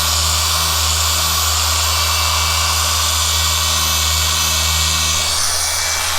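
A handheld car polishing machine works the paint of a 2018 Ford Raptor, a steady, loud, high-pitched whirring drone that holds nearly unchanged throughout, with a slight shift in pitch near the end.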